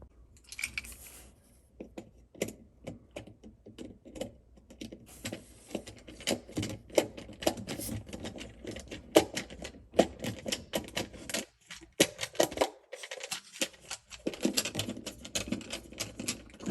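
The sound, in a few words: unscrewing a Z-Wave door sensor to remove it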